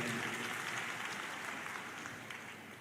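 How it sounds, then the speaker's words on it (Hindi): Audience applause at a spiritual global summit hall, steady dense clapping from a large crowd throughout, fading slightly toward the end. "जरा तालियां बजाकर उनका अभिनंदन करें"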